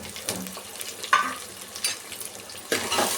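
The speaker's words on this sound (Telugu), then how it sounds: "కొంచెం ఫ్రై చేసుకోవాలి." Green chilli, onion, carrot and peas fry in a pan, a soft constant sizzle punctuated by a few sharp scrapes and stirs of a spatula, close and clear with no talking.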